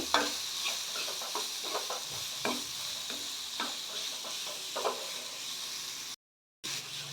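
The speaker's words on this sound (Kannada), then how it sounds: "ಎಲ್ಲವನ್ನು ನಾವು ಮೀಡಿಯಮ್ ಫ್ಲೇಮಲ್ಲೇನೇ ಫ್ರೈ ಮಾಡ್ಕೋಬೇಕು" Onions, green chili and ginger paste fry on a medium flame in a steady sizzle, punctuated by periodic stirring scrapes, close up with no voices and a brief cut to silence near the end.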